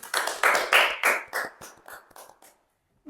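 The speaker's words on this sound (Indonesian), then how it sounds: "Mari berikan tepuk tangan untuk kakak-kakak." Audience applause at an Indonesian event, a brief burst of clapping that starts strong and thins out gradually before stopping.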